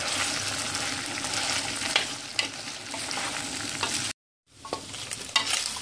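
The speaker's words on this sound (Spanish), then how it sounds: "miren que la carne ya está comenzando a dorarse" Pieces of pork browning in a pan, crackling and sizzling steadily up close with occasional scraping stirs, cut by a short silent gap before the frying resumes.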